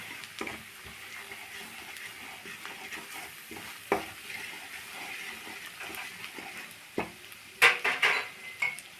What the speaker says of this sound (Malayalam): ഒരു സ്പൂൺ മല്ലിപ്പൊടി ഒന്നര സ്പൂൺ മുളക് പൊടി നന്നായിട്ട് മിക്സ് ആക്കാം